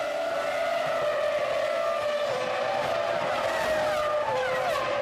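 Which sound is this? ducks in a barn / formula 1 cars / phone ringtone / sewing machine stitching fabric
formula 1 cars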